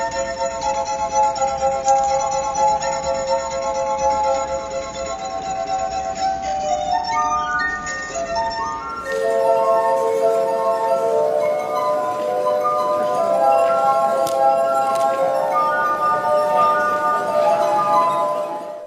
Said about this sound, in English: All you have to do is touch them with wet fingers and the glass harp will sound.